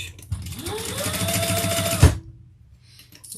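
Home sewing machine running a top stitch, a fast steady whirring stitch rhythm that starts up, holds for about two seconds, ends with a clunk, then falls quiet.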